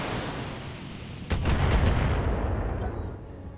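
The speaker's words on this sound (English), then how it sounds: "Going to be hit by another missile." Missiles fired in Battletech mech combat land as a quick cluster of four heavy thumping blasts, loud and close, followed by a rumbling tail after a dull, quieter lead-in, with no voices.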